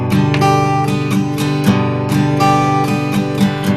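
Focused guitar strumming with a recurring high note accent, a steady pattern of roughly a dozen crisp strokes, close and clear without any voices.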